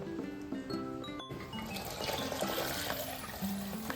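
Thin coconut milk is poured into a pot of jackfruit payasam, a close liquid splashing and trickling that swells into a steady gurgling flow after a short tonal jingle at the start, with no speech.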